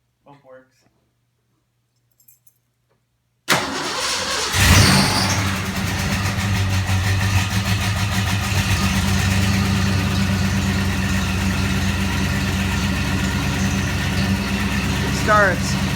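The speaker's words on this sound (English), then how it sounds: "Now we're just starting up the car" A restored 1989 Ford Mustang with a new water pump and timing chain cover cranks and catches after a short silence, then settles into a steady, close, loud idle while people talk over it.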